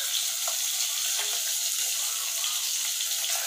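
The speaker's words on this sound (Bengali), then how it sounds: "মাছটা একটু খড়া খড়া করে ভাজি" Fish frying in a pan, cooked until crisp, giving a steady, close sizzle that runs evenly from start to finish with no voices over it.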